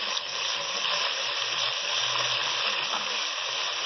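Garlic-ginger paste frying with whole spices in a pan for pea pulao, giving a steady moderate sizzle with soft stirring scrapes throughout and no speech.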